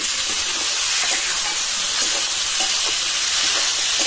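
Tomato sautéing in a hot pan for a village-style Bangladeshi dish gives a steady, dense sizzle with faint stirring scrapes, close and continuous with no talk.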